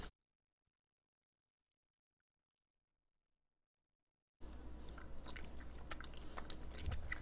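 Close, crunchy chewing of a stereotypically British candy with a dry, stale molasses-cookie texture, heard alone after a long stretch of silence.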